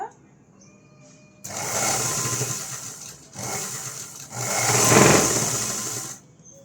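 A sewing machine stitching blouse cloth in bursts, three runs of fast whirring needle action separated by short pauses, close and fairly loud, with quiet background between runs.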